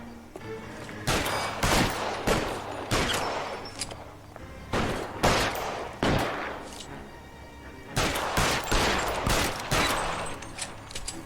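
Gunfire in the video game L.A. Noire: repeated loud bursts of rapid shots in clustered volleys with short pauses between them, continuing throughout.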